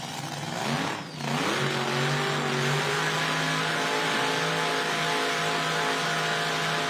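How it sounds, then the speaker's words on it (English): Nitro drag racing engine at an IHRA Outlaw Nitro event, misfiring on the right bank while puffing smoke, a loud sustained roar with a brief dip near the start before the note settles into a steady, harsh drone. "I saw that thing misfiring a little bit on the right bank, and it's puffing some smoke for Gertelman."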